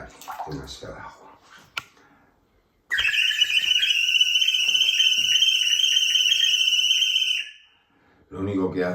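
A water whistle chirps with a warbling, bird-like vibrato for several seconds, loud and steady. Brief speech comes before it and after it.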